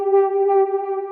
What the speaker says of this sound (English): and I've got the auto filter running to kind of open that,